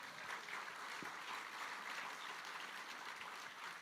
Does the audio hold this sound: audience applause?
yes